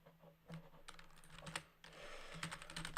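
Computer keyboard typing during a coding session, a steady run of quiet clicking keystrokes in irregular bursts, heard alone with no talking.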